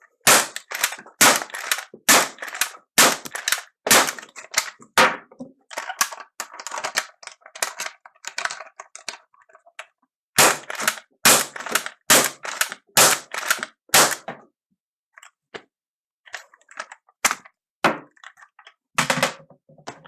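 Nerf Hammershot blaster fitted with a drop cylinder mod firing repeatedly, sharp close snapping shots and clicking cocking actions in quick rhythmic bursts, a pause mid-sequence, then more scattered shots.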